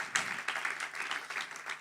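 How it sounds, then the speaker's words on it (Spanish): A congregation applauds during a church service, brief continuous clapping at moderate volume from a crowd. "Dele aplauso."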